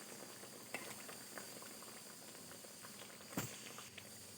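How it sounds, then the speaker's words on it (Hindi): Egg curry simmering in a pot gives a soft, steady bubbling hiss with occasional small pops, faint and continuous, with no voices. "तीन मिनट के लिए इसको पकने दूंगी।"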